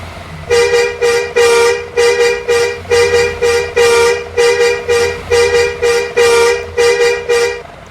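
A steering-wheel horn sound mod in a video game blares about a dozen loud, evenly spaced honks in a steady rhythm, close up with no voices.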